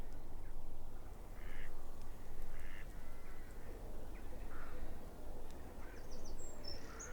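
Faint, distant bird calls, a few duck-like quacks among them, drift over a low steady background hum beside a river in open countryside, with nobody speaking.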